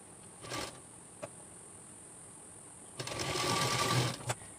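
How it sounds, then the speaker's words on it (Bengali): A sewing machine stitches a bolster pillow cover in short bursts, a near buzzing run early on, a brief tick, then a longer rattling stretch of stitching toward the end, alone and moderately loud. "তো এই রকম আমি চারিদিকে সেলাই করে নেব।"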